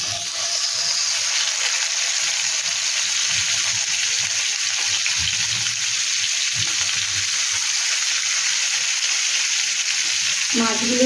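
Marinated rui fish fries in hot oil in a nonstick pan, a steady, close hiss of sizzling that continues throughout, with a little scraping near the end.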